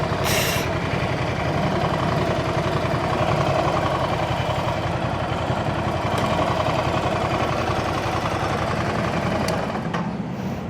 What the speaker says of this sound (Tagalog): Putayin ko muna ang makina.